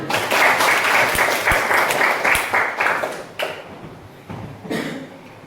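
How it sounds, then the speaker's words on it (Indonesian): Classroom students clap for a classmate after a math answer, a short burst of brisk applause with a few distinct claps that thins out and fades in scattered bursts toward the end. "kita kasih tepuk tangan"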